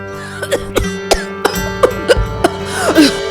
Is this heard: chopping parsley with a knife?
no